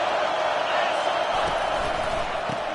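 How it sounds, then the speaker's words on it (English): Football stadium crowd roaring on third down to back the defense, a dense, loud, sustained wall of cheering noise throughout, with no distinct talk on top. "Decibels rising as the crowd gets behind this defense on 3rd down."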